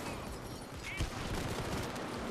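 Faint, dense gunfire rattles through a Payday 2 co-op heist in a continuous distant fusillade, with one slightly sharper shot standing out.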